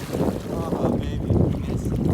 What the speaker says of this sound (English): we are going to head out because it's starting to get super windy